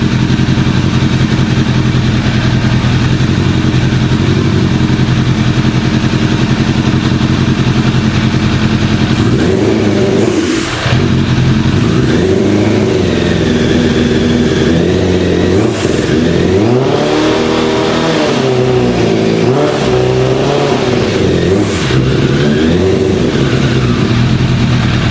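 A Suzuki GSF600 Bandit motorcycle with carburettors, started for the first time after sitting, runs loud and close: a steady idle that breaks into several uneven throttle revs rising and falling.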